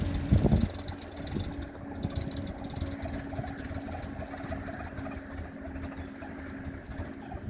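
An old engine that has sat unused for a long time idles roughly, its steady low uneven rumble lasting throughout after a brief louder burst at the start.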